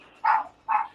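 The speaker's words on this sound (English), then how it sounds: "We've got barking dogs" Two short, sharp dog barks in quick succession, fairly close and clear against a quiet background.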